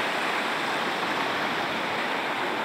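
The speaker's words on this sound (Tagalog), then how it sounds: "Talagang grabe lakas ng agos na yan, no?" The Majayjay River in Laguna runs as a strong, fast current, making a dense, steady rushing roar that stays close and constant with no voices.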